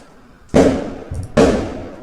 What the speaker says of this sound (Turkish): Bahçemizde havai fişek patlatıyorlar şu an.